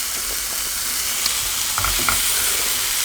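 Green radish tops sizzling in a hot pan while being stirred, a steady loud hiss of frying with occasional soft scrapes and clicks of the utensil.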